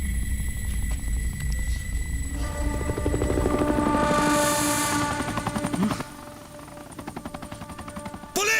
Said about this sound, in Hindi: पुलिस हेलीकॉप्टर भागो जल्दी